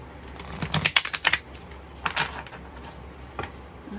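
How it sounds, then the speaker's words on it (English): Tarot cards being shuffled, a quick run of crisp riffling clicks in two short bursts followed by a few softer taps. "All right, let's shuffle one more time."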